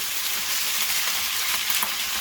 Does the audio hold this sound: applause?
no